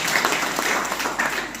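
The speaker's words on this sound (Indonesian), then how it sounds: "Berikanlah sekali lagi tepuk tangan bagi Tuhan Yesus Kristus." A congregation at a Christmas worship service in Banjarmasin claps together in a dense, continuous round of applause, steady and moderately loud throughout the short stretch.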